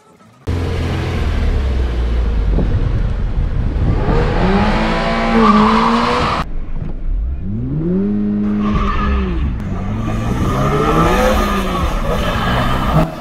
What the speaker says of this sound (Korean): 약간의 비가 살랑살랑 흔들어지는 드리프트도 경험을 할 수가 있었죠